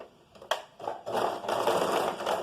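Sewing machine stitching a side seam on fabric, starting with a sharp click and short stutter, then running in a steady, close, fairly loud mechanical whir to the end.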